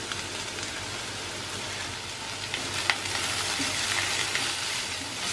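Diced capsicum and diagonally cut green chillies sauté briefly over a high flame, giving a steady, close sizzle and crackle that runs alone and evenly for the whole stretch, with small pops rising here and there.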